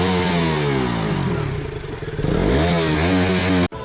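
A motorcycle engine revs hard at full throttle nearby, loud and rasping. The pitch wavers and dips midway, then climbs again before a sudden brief cutout near the end.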